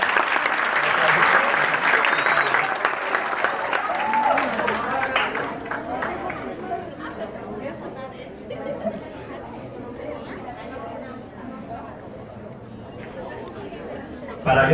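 Applause at a Jovem Aprendiz youth apprentice certificate ceremony swells loudly at first, then thins into crowd chatter and murmuring voices that continue to the end.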